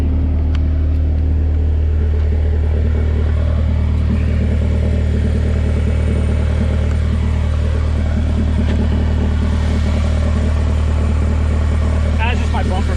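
A Honda K-series engine swapped into a Porsche 996 idles with a steady, deep rumble that holds even throughout, while voices murmur faintly in the background.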